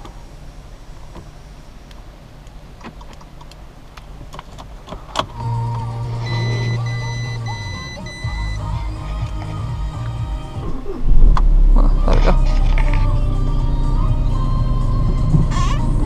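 A 2013 Audi A3 with a 6-speed manual cranks and catches, its engine settling into a steady low idle up close, with a brief spoken remark before it starts.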